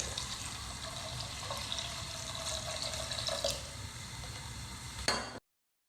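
About four and a half cups of water poured into a pot of cooking cabbage curry, a steady close splashing rush that runs for several seconds, followed by a brief clatter of utensils.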